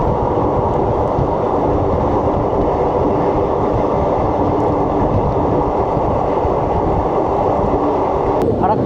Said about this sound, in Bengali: ফারাক্কার ব্রিজের উপর দিয়ে যাচ্ছি।